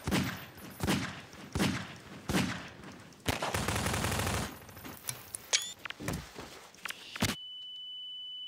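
Gunfire in the sandbox video game Garry's Mod: evenly spaced heavy shots, then a dense sustained burst of automatic fire and scattered sharper shots, loud and close, ending in near silence with a thin tone.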